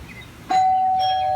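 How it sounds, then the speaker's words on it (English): A house doorbell sounds once during dog training, a loud, clear electronic chime that rings on and holds after the initial strike. "Doing a little knocking, a little ringing the bell."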